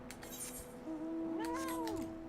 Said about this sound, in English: I love the kitty. It sounds so cute.